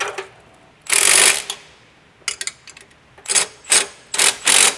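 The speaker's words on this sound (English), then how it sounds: "I'll bolt this section up." A ratchet clicks loudly and close while an exhaust mid-pipe section is bolted up, coming in repeated short bursts of rapid clicking with brief quiet gaps between strokes.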